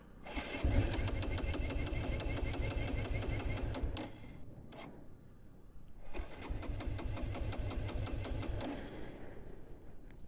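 A Bajaj Pulsar 220F motorcycle engine cranks and catches, then settles into a steady close idle with rapid low thumping pulses, briefly dropping out midway before starting and idling again.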